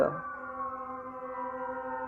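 A siren wails with a steady, sustained tone, fairly faint and alone, holding pitch over a couple of seconds.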